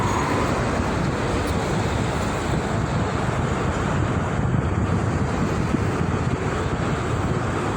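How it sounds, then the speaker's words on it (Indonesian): Heavy rain and strong wind on the Cikampek toll road in the morning, a loud, steady broadband roar that holds without a break from start to finish, with no voices. "Hujannya cukup lumayan lebat teman-teman, dan anginnya ini kencang pagi ini"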